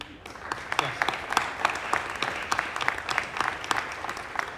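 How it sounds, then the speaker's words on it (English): Town-meeting audience applauds volunteers, steady dense clapping from a crowded hall lasting several seconds at moderate loudness, without talk over it. "we gave some applause to everyone standing"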